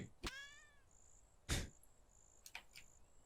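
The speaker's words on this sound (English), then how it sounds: "just hearing random cat cries coming from the direction of Wanderbot" Cat cries from a creature in the Keplerth video game, a short rising-and-falling mew near the start followed by a few sharp game sound effects, faint and without talk.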